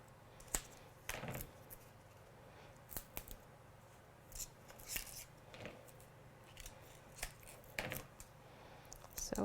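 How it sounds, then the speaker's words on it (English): Old scissors snip through tape in a quiet room, a series of short, sharp cuts and rustles spaced irregularly across the stretch, close and fairly faint, with no talking. "Just use my old scissors to cut this one."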